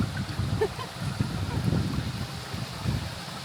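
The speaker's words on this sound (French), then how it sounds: "Voilà la petite cascade." A small waterfall in New Zealand gives a steady, low rush of flowing water, heard from a short distance under wind noise with no clear voices.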